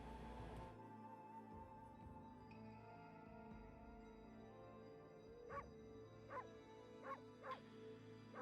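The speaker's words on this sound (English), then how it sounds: "I got a bark button?" A series of five short, sharp dog barks from the wolf in the video game Okami rings out in the second half, evenly spaced over a steady musical game background with no talk.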